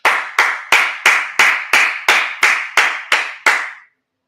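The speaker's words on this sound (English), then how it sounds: "Clap it up." Eleven sharp hand claps in a steady, even rhythm, loud and close, with nothing else underneath.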